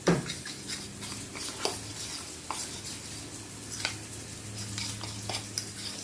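Seasoned chicken pieces are tossed and mixed through flour in a bowl, giving soft, uneven scraping and rustling strokes, close and moderately quiet, with no talking.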